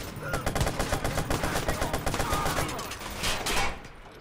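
Rapid bursts of automatic gunfire from a heavy weapon in the video game Watch Dogs, fairly close, firing in a steady rattling rhythm that eases off and then returns with a final flurry.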